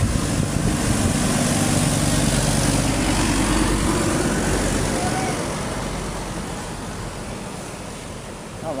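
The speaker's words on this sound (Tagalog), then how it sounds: "Mga truck na dumaan oh." Heavy trucks roar past on a road during a typhoon, a loud, steady wash of engine rumble and tire noise blended with strong wind, fading slightly toward the end.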